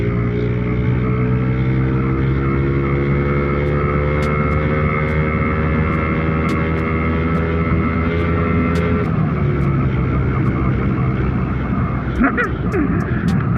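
A Honda Astrea motorcycle fitted with a Suzuki Satria aftermarket exhaust drones steadily with a rough, throaty tone, then the revs drop and settle, with faint clicks near the end.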